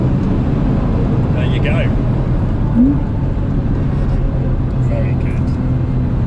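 Porsche Boxster Anniversary Edition driving on the Nurburgring, a steady loud engine and road drone heard from inside the car, with people talking over it.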